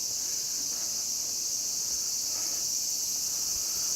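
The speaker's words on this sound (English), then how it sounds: "Man, the cicada brood's loud and proud this year." Cicadas of a loud summer brood in Tokyo drone in a steady, shrill, unbroken chorus that holds at constant strength throughout, with no voices over it.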